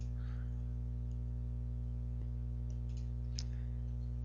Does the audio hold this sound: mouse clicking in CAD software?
yes